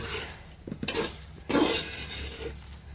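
Coconut and dried chilies roast in a pan while a spoon stirs and scrapes them, giving a few soft clinks and scraping strokes over a faint sizzle, close and fairly quiet.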